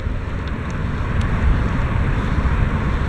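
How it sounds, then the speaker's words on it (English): Heavy wind roars across the microphone while cycling outdoors, a loud, continuous low buffeting rush with gusty swells and no talk. "Man, it is windy. It's blowing me all over."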